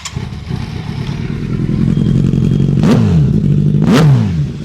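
A motorcycle engine idles with a steady low rumble, then revs sharply twice, each rev rising and falling quickly, loud and close.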